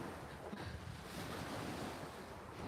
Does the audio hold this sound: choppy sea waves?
yes